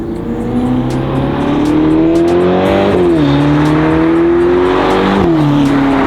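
A Ferrari Lusso T V8 revs hard through the gears, its pitch climbing in smooth sweeps that briefly dip at each upshift, loud and close from inside the car.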